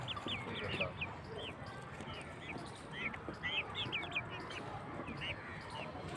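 A flock of aseel chickens clucks and chirps in quick, scattered calls, fairly faint amid a constant noisy outdoor background.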